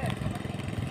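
A small engine running steadily for filling a sprayer tank with water, giving a close, loud, continuous rapid putter with an even pulsing rhythm throughout.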